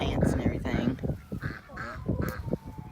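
Fluffy winter ducks quacking and honking on a farm that also keeps chickens, several close calls in an irregular series with a little background noise between them.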